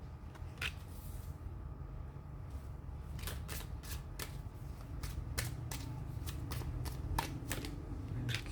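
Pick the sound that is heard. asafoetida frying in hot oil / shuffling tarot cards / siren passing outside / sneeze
shuffling tarot cards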